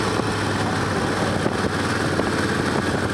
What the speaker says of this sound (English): I come around here now and again on my motorcycle.